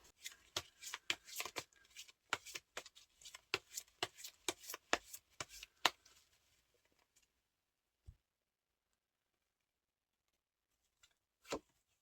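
Tarot cards riffle and snap in a quick, close shuffle, a dense run of crisp flicks for several seconds, then a pause and a couple of lone soft taps as cards are drawn.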